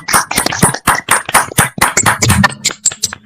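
An audience claps together in a dense burst of applause, loud and close, with sharp overlapping hand claps running steadily throughout.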